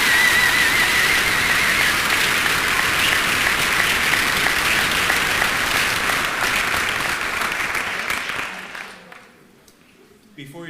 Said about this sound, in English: Let's have a round of applause for this year's graduates.